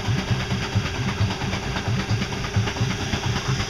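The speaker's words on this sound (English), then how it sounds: "you can hear the engine rev up every time the clouds get out of the way" A low, steady electric bike motor hum with a faint rhythmic pulsing, running continuously at moderate volume with no voices.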